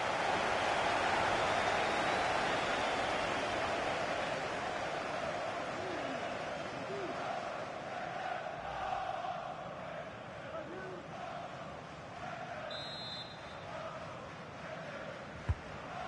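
A stadium crowd in the FC 25 football video game keeps up a broad, steady roar of cheering and encouragement that swells early and then eases a little, with a commentator's voice speaking over it.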